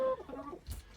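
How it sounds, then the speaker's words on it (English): Brahma chickens give a brief soft cluck and warble nearby, followed by a short rustle, in a quiet coop setting. "I think the Brahmas are underneath here."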